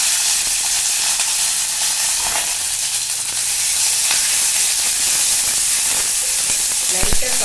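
Onion, green chili, curry leaves, urad dal and chana dal sautéing in hot oil make a loud, dense and continuous sizzle with steady hiss, plus a few light stirring knocks near the end, close by with no voices.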